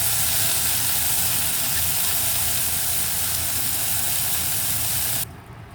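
Fish sizzles in a non-stick frying pan with no oil, a loud, close, continuous hiss that stops abruptly near the end.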